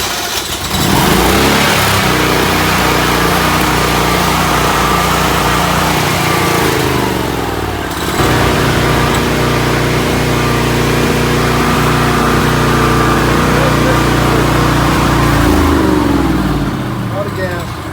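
A large Generac portable generator starts and runs with a loud, steady engine drone and a throbbing low hum that holds throughout, briefly dipping once, while people talk nearby.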